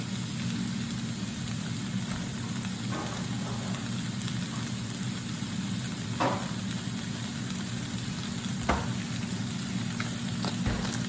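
Vegetables sizzling in melted butter in a pot for jambalaya, a steady, even crackling hiss that runs throughout with a few faint clinks and stirring taps.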